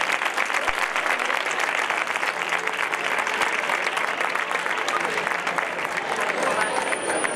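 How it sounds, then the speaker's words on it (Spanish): An audience at a village fair coronation ceremony in Facinas claps steadily for several seconds, dense and continuous, with voices faintly mixed into the applause. "Un aplauso para ellos."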